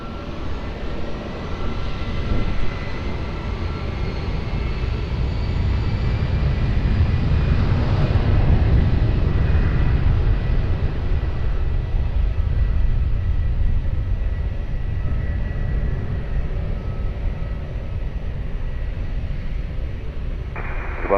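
An airliner powers up for takeoff on runway 20 at Lisbon Airport, a broad, steady jet roar building to a peak midway and then holding as it climbs away into the distance.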